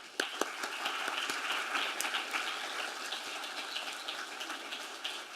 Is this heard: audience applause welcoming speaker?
yes